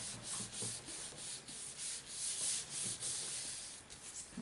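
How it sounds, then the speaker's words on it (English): Steady brisk rubbing of cheap photocopy paper pressed over a large rubber stamp, a soft papery scrubbing in quick repeated strokes, close and quiet with no talking. "just a cheap piece of photocopy paper, and I just like to give it a good rub"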